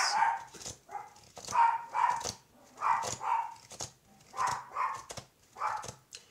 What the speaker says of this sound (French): Je m'excuse pour le chien.